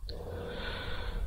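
A single sharp inhaled breath, close and brief, taken just before a Quran recitation, with a soft airy tail afterward.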